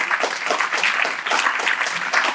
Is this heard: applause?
yes